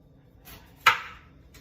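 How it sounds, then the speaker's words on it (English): A knife chops through the end of an eggplant on a cutting board, one sharp close thunk with a brief tail and a couple of faint softer knocks around it. "So the first thing I do is cut off the ends and the top."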